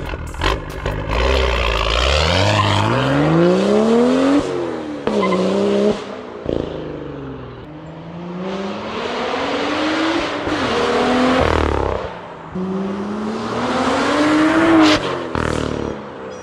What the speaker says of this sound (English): Thing sounds absolutely mental, dude. The exhaust note is just unreal.